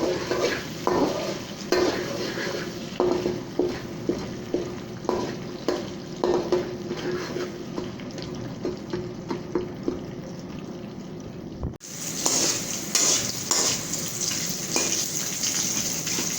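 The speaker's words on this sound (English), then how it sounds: "add some salt, add the popcorn, mix it." Popcorn with salt being mixed in a pan makes a continuous rhythmic rustle of stirring over a low frying sizzle, close by, with a brief break near the end before it resumes.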